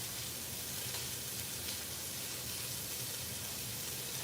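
Pork tenderloin sears in a hot pan with a steady, fairly quiet sizzle and hiss that holds evenly throughout, no talking over it.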